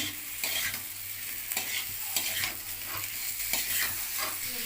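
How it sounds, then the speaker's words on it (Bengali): Egg and potato stir-fried together in a pan for a Bengali egg curry with potato, with a steady close sizzle of oil and repeated scraping strokes of a spatula, no voices. "ডিম আলু একসাথে ভালো করে কষা নিচ্ছি।"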